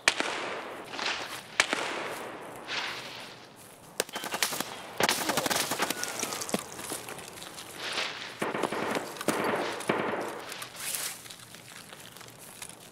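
Gunfire from an ADAR rifle in Escape from Tarkov, heard as scattered sharp cracks and bursts of shots across the span, some close and loud, others quieter, with no talk.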